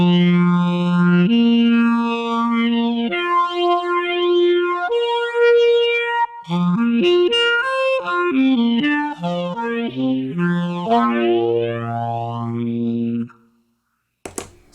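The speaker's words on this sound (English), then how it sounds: "So I've got flanger on and I've got phaser on" A saxophone runs through flanger and phaser effects into distortion on a Line 6 HX Stomp, playing a melodic line of held and quick notes with a swirling, sweeping, gritty tone, then stopping abruptly near the end.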